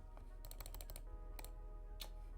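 Faint computer mouse and keyboard clicks, a scattered run of quick taps in several small clusters over a low background hum.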